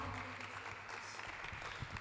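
Audience applause at a student entrepreneurship summit welcomes the host on stage, a steady wash of clapping from a crowd, fairly soft and even, with some voices mixed in.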